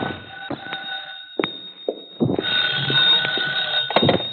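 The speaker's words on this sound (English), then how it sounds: "My phone was ringing when I got there." A telephone rings in an apartment in an old radio drama, with repeated bell rings against a steady hum and some clunks of movement, heard fairly close.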